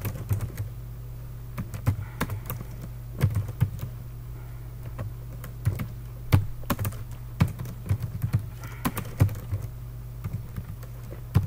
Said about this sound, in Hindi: हम यहाँ पर कुछ नाम लिखते हैं, अमन,